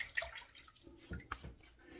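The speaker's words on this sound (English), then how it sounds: "just taking some warm water out of the sink" Quiet running warm water from a bathroom sink tap, a soft splashing trickle close by with faint clinks, no talking.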